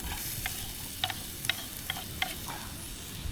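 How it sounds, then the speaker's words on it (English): Onion and garlic fry in a little oil in a pan over a campfire, giving a steady close sizzle broken by several sharp scraping stirs, with no talking. "Okay, so that's onion and garlic. That's going to go in the pan with a bit of oil. Just fry them off."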